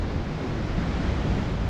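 Large storm waves crash continuously against the Scottish coast during Storm Ashley, a loud, dense roar of surf and spray mixed with wind buffeting the microphone, with no break in the noise.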